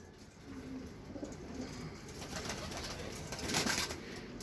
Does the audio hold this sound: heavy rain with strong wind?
no